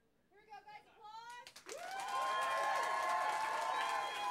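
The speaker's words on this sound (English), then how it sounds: "Applause" An audience at a 2003 MTV Madonna special bursts into applause and cheering, building from scattered claps into a loud, sustained roar from the crowd.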